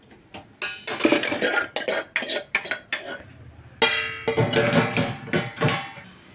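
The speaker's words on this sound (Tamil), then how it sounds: "பாத்திரத்தெல்லாம் அடுக்கி வச்சு இப்போ நம்ம க்ளோஸ் பண்ணிடலாம்." Dishes, cutlery and pots clatter and clink in quick irregular bursts, close by, as a Voltas Beko dishwasher is loaded, with no talking.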